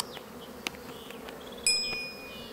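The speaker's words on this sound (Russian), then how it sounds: "Ну и закрою сюда уже любопытных пчел сразу." Honeybees near an opened hive buzz in a faint, steady drone, with small clicks and a sharper whine of a bee passing close partway through.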